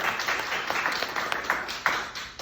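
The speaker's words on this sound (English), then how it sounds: "give him a huge round of applause" A crowd claps steadily, a continuous wash of applause with a few sharper individual claps standing out.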